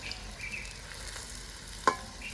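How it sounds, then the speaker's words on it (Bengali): Chicken pieces frying in lightly heated oil for chili chicken, a soft steady sizzle with one brief sharp clink of a utensil near the end, with no voices. "তার জন্য তেলটা হালকা করে আমরা ভেজে নিচ্ছি।"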